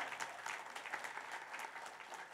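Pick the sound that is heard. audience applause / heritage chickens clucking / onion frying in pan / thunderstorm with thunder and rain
audience applause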